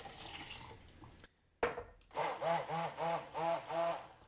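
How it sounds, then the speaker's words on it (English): Kombu dashi poured into a pot, a short burst of splashing liquid followed by a steady run of rhythmic, gurgling pulses, close and fairly loud with no talk. "Actually, I'm going to pour in the last bit of kombu dashi."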